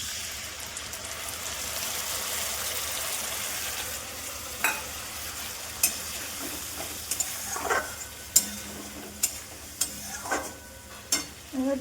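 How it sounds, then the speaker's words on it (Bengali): Spice paste sizzles in a hot pan with fried soybean chunks, a steady frying hiss throughout, broken by repeated scraping knocks of a spoon stirring and sautéing it, close by. "এবার ওই পেস্টটা অ্যাড করে দিলেই হবে, তারপর ভালো করে কষাতে হবে।"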